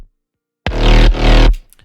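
A dubstep synth bass section plays together in two heavy, loud wobbling bursts with deep sub-bass and buzzy harmonics, beginning after a moment of silence.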